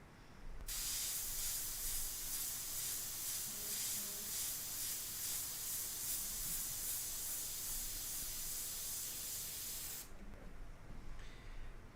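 An airbrush sprays ink in one continuous hiss lasting about nine seconds, close and steady, stopping abruptly with quiet room tone before and after.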